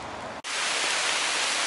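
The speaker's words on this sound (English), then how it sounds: "Rain's tipping it down right now" Heavy rain pours down beside the Thames as a loud, dense, unbroken hiss, interrupted only by a brief dropout near the start, with no talk.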